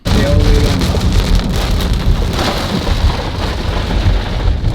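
Steady, dense rainfall pours down outdoors as a constant loud hiss and patter that fills the whole stretch, with a low rumble underneath and no voices.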